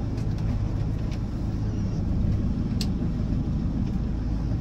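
A 2012 Land Rover Defender 90 2.2 TDCi Bowler Rally Challenge Edition pulls away, heard from inside as a steady loud low diesel engine rumble and road drone with no talk.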